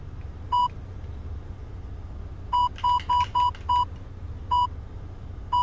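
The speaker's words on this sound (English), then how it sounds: "Beep. Beep." Electronic beeps in a Roblox game, a single tone, then a pause, then a quick run of five evenly spaced beeps and one more, loud over a low background rumble.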